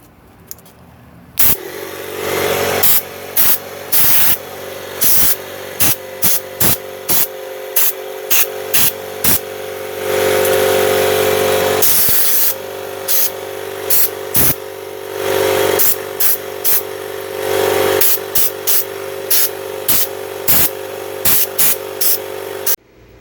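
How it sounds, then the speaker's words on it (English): An air compressor blasts dust out of a computer heatsink in a long series of sharp, loud bursts, some brief and some held for a second or two, with no talk. "We'll just blow it out with the air compressor real quick."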